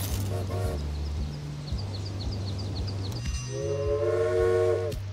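Steam-era locomotive in the video game Railway Empire: a low rhythmic chugging with repeated puffs, a fluttering run of high chirps, then a loud sustained whistle toward the end.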